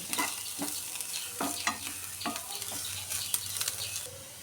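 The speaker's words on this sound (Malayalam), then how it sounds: "ഇതിലേക്ക് നമുക്കിനി വെളുത്തുള്ളി ഇഞ്ചി ചേർത്ത് കൊടുക്കാം നന്നായിട്ടത് മൂത്ത് വരണം" Garlic and ginger sautéing in a pan for egg curry, stirred with repeated scraping strokes over a continuous close sizzle of hot oil, and no voices.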